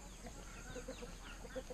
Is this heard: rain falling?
no